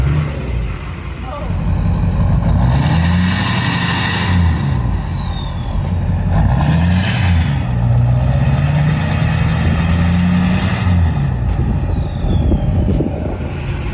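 A Duramax diesel pickup engine revs up several times, the deep low drone climbing and falling in pitch with each throttle blip, loud and close, with short pauses between pulls.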